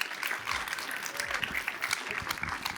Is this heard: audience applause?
yes